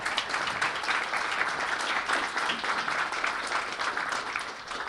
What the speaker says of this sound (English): Could we get a round of applause for Mark and Paul?